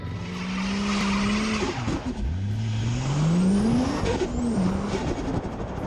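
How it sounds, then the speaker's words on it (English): A Ford XR6 Turbo revs hard through a line-locked burnout, its rear tyres squealing in long rising and falling tones over a loud, steady engine roar, with no talk. "Once you get the tyres up to speed, you can release the button and off you go."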